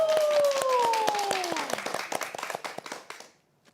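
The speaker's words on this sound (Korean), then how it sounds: "우리 박수로 청하겠습니다" Audience at a church Bible class applauds to welcome a worship singer. Brisk clapping runs under a sustained sliding tone, then thins to scattered claps and fades out.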